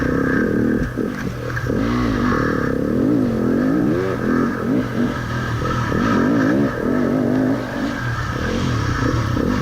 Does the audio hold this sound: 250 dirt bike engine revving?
yes